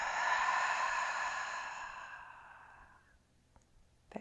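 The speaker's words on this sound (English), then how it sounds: "Let's take a cleansing inhale and exhale." A yoga cleansing breath, heard as a long, close exhale through an open mouth that fades out gradually over about three seconds and is followed by quiet and a few small soft sounds.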